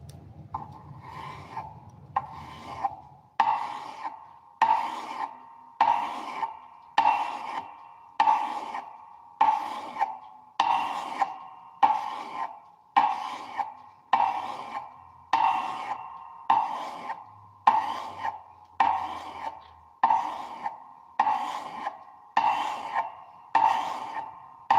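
A tool is sanded with 400 grit sandpaper during rust cleaning, giving about twenty close, evenly spaced rasping strokes in a steady back-and-forth rhythm.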